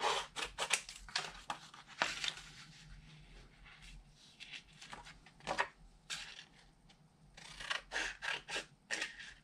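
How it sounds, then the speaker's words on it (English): Paper liner piece being cut free-hand with scissors for a desk calendar craft, a series of short crisp snips and slices close by, coming in quick bursts with brief pauses between them. "I'm just going to cut this, free cut it."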